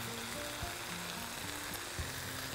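Garlic sizzles gently in a pan with chopped parsley, a steady soft crackle with occasional stirring knocks, close and continuous with no talking.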